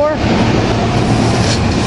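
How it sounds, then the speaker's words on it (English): A Fox Chase commuter train of rail cars passes close by at Temple University, making a loud, steady rumble of wheels on track that holds evenly from start to finish. "Here we got Fox Chase train 846 with rail cars"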